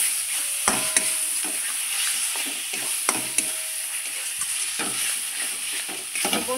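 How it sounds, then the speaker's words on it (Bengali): Dried lote fish frying with masala in a pan, giving a continuous crackling sizzle with repeated sharp stirring clacks and scrapes throughout. "এই লোটে শুটকিটা প্রচণ্ড হারে সময় নিয়ে ভাজতে"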